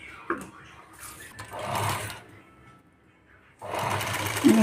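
A sewing machine stitches potli buttons onto a blouse in two close, loud bursts of rapid whirring, with quieter handling sounds and someone speaking between the runs.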